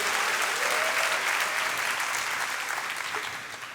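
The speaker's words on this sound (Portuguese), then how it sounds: "Dá uma salva de palmas, pode dar" A church congregation claps together in sustained applause, a dense, even patter of many hands that holds steady and then slowly fades toward the end.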